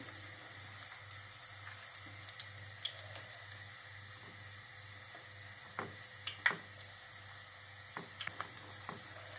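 Zucchini flower fritters fry gently in a pan with a steady, close sizzle and scattered soft crackles and pops, with no talking.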